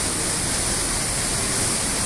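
A waterfall in the Araucanía region of Chile, a slower drop carrying less water, gives a steady, dense broadband rush of falling water heard close up and with no pauses or voices.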